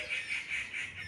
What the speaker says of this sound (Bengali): ওই যে ডাকছে কি ডাকছে শোনো ওই পাখি